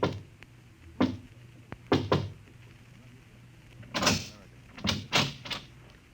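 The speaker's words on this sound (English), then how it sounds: "He pauses, looks behind him, then knocks quietly on a door." Quiet knocks on a door in an old-time science fiction radio drama, a few soft raps arriving in small clusters separated by pauses, close and dry.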